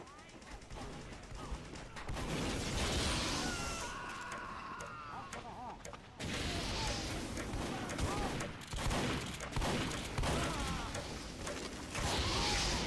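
Shotgun blasts from a video game ring out in bursts amid dense gunfire and game noise, with a player's voice talking over much of it.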